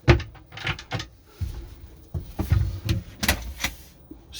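A drawer in a Knaus Van i650 MEG integrated motorhome is opened and shut, giving a series of close wooden knocks, slides and clunks in irregular succession with no talk.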